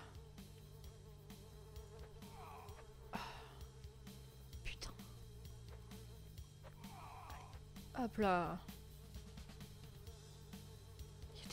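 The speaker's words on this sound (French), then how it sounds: "Il y a des mouches partout, c'est un enfer par contre." Flies buzz in the Mouche simulator video game, a thin persistent insect drone under a soft, near-whispered voice, with a louder swooping buzz passing close near the end.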